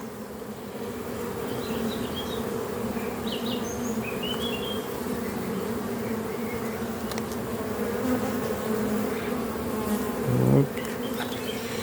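Honey bees swarm around an open hive during an inspection, a dense, steady buzzing drone filling the whole stretch. A voice briefly speaks near the end.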